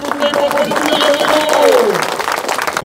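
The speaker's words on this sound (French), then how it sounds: "Les applaudissements, s'il vous plaît" Spectators at a French Cup cross-country mountain bike race in Marseille applaud cyclist Pauline Ferrand-Prévot, a steady wash of clapping and crowd noise sitting beneath a loud announcer's voice.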